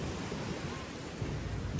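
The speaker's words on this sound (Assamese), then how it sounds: "আগফালে সাগৰ বগা বগা বালি" Sea waves roll at North Phuket beach in a steady broadband wash of surf, with wind noise mixed in and no distinct breaks, faint and continuous throughout.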